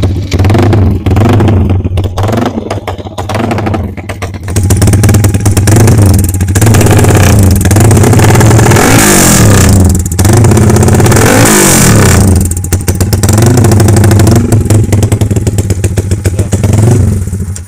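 Yamaha Y15 motorcycle with a 70mm upgrade and aftermarket exhaust, revved hard and loud up close, the engine note rising and falling through repeated blips over a steady idle, with brief crackly drops between revs.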